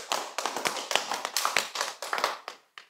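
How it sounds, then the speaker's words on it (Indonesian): Audience clapping at a religious talk, a loose run of sharp handclaps with irregular rhythm, fairly close and steady, no voices over it. "Tepuk tangan."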